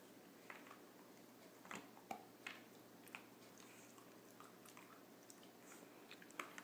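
A dog chews a cookie treat from a bag of three-flavored Aston's Cookies, giving faint, scattered crunches and soft bites, fairly quiet and intermittent, with no talking.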